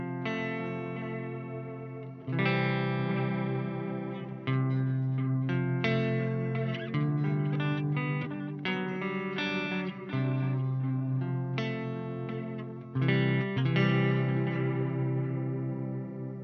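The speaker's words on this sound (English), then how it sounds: "Cascade is a bucket brigade delay, so you're going to get loads of lovely analog style sounds." Guitar played through a Chroma Console pedal on its Cascade bucket brigade analog delay, giving loud, sustained chords and picked phrases with a warm, repeating echo and chorus-like shimmer. Several new strums land near and full throughout, with no talking.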